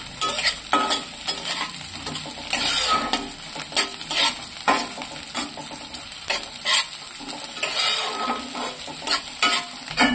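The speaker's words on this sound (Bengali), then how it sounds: "এখানে 4-5টা কাঁচা লঙ্কা দিচ্ছি। কাঁচা লঙ্কা 4টে করে একটু নেড়ে নিচ্ছি।" Four or five green chillies fry in a pan while being stirred, giving an ongoing oily sizzle broken by irregular scraping and clinking strokes of the spatula, close and moderately loud, with no voices.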